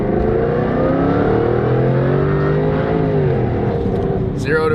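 An exotic sports car engine revs under load while driving, a loud steady drone that climbs and falls in pitch as it accelerates and shifts, heard from inside the car, with a voice talking over it.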